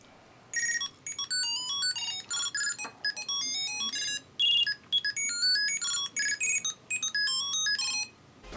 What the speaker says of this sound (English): you can easily just press the button and you can see that it rings the cube